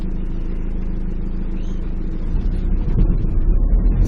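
Engine noise from an Ocado delivery van and a BMW held up on a narrow village lane, a steady low rumble that grows louder and rougher toward the end, with no one talking.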